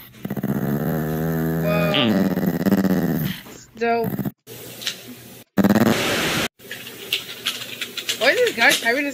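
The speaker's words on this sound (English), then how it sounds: "The dog's angry" A dog growls in bursts, its rough rumble mixed with excited voices and a distorted, static-like edge, with a few brief whimpers and gaps between outbursts.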